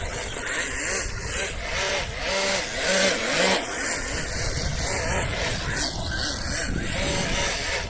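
A Tamiya TT01 RC car on a 7.2V NiMH pack, fitted with a poorly balanced custom drive shaft, drives on pavement. Its continuous rough buzzing whine swoops up and down in pitch over constant close road noise.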